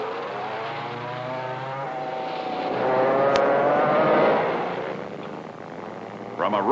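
A 1961 McCulloch go-kart engine accelerates from a rolling start to about 45 mph, its buzzing note climbing and swelling to a peak before easing off, with a voice speaking over it.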